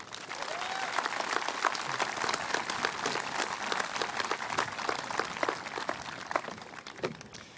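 Sustained audience applause at an outdoor memorial ceremony at the Minnesota State Veterans Cemetery, a dense, even patter of many hands clapping for the band throughout.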